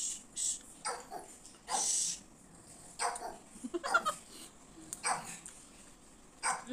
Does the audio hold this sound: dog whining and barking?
yes